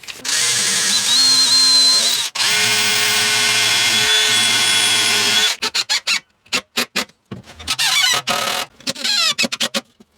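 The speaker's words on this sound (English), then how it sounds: "So I'm going to drill some holes in here" A power drill bores holes in wood while a router table is being built, whining steadily for about five seconds, then stopping and starting in short, choppy bursts with clicks between them.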